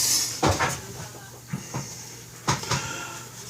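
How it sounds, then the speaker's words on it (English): A door closing in a garage during cold weather, with a few distinct knocks and a latch-like thud at close range, followed by a second pair of bumps a second later, over a quiet background. "I'm closing the door."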